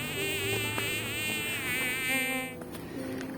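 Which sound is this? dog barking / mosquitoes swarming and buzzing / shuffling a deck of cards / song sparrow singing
mosquitoes swarming and buzzing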